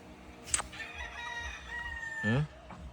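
White Kelso and Golden Boy roosters on a farm: one clear crow rising in the middle distance, with a sharp squawk just before it and a brief clucking call near the end, over faint outdoor background.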